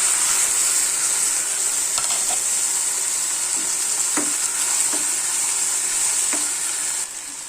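Taro pieces frying with spices in a pan: a steady bright sizzle of hot oil throughout, with a few soft scrapes and taps of stirring, close and continuous without talk.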